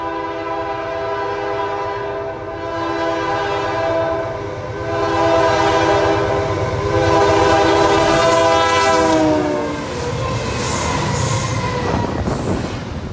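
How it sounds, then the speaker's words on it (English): A CN freight train, X105 with a BC Rail locomotive leading, passes close by at about 51 miles an hour in a loud, sustained rumble of wheels, with squealing and a sounding horn and no talk. "X105 was really flying. He was going 51 miles an hour, making it the fastest freight train I ever seen at Reach Road"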